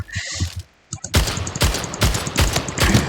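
Rapid gunfire from a weapon in the video game SplitGate starts after a short quiet stretch, sounding as sharp, evenly spaced loud shots in quick succession.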